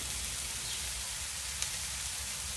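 Onions start cooking on a hot griddle for smash burgers, giving a soft, steady hiss with a faint crackle, fairly quiet and unbroken, with no voices.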